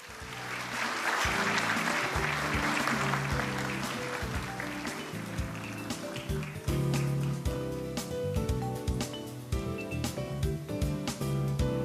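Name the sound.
audience applause welcoming a speaker at a ceremony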